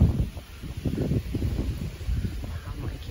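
Wind blowing through a backyard garden on a blustery day, a close low rumbling buffet of gusts against the microphone with faint rustling, steady throughout.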